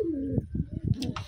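A pigeon gives a brief soft coo, close and fairly quiet, followed by light rustling and faint background noise.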